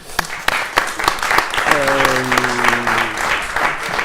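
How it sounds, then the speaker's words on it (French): An audience at a French panel on managerial innovation claps for a guest who has just finished speaking, sharp individual claps tapping out through a background murmur, with a voice rising briefly over the middle. "Gwenaë, on peut l'applaudir."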